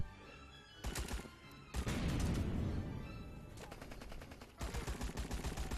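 Gunfire shot through bamboo cover in a Rambo video game, with loud bursts of rapid automatic fire separated by short pauses and no talk over it.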